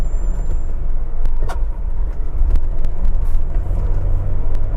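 A 1993 Mercedes 300GE G-Wagon with a manual inline-six drives along with a loud, steady engine drone and heavy road rumble from inside the cabin, with a few faint clicks over the top.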